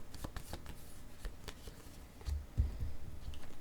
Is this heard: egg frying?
no